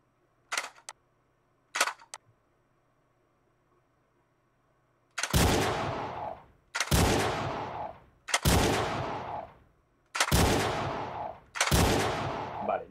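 Lightgun shots in a video game running on the RPCS3 emulator: two faint clicks first, then five loud, sharp gunshot bursts at a steady pace, each with a decaying tail.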